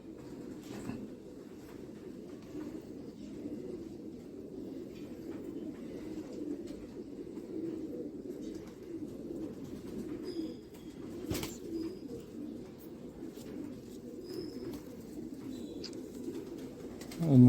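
Tonk pigeons coo in a low, continuous, overlapping murmur that stays fairly soft and steady throughout, with an occasional faint chirp or flutter above it.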